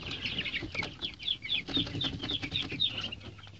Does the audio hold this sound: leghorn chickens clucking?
yes